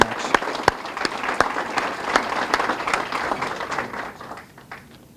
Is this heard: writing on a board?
no